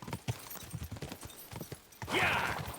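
Horse hooves in the medieval video game Kingdom Come: Deliverance II, a quick irregular run of soft thuds under low chatter, followed by a brief rising whinny-like cry near the end.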